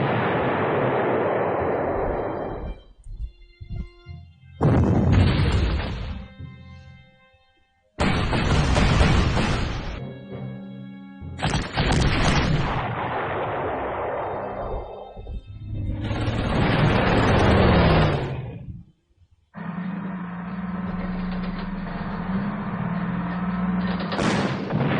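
Artillery fire in the wartime strategy game Panzer Corps, set around Kharkov: several heavy booming blasts, each swelling loud and rolling off into rumbling decay, separated by short gaps.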